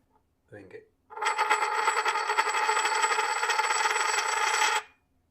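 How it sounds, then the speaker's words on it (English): A silver dollar coin, one of a batch of cheap Chinese silver dollars being checked for fakes, is struck to ring, giving a bright sustained metallic ring of about four seconds after a brief handling noise. "pick one of the coins up and we're going to ring it"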